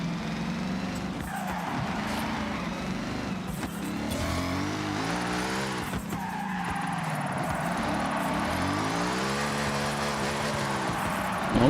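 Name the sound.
car drifting and tyres skidding in Forza Horizon video game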